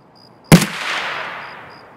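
A single sharp gunshot in Escape From Tarkov, loud and close, with a sudden crack followed by a long, fading echoing tail over a quiet background.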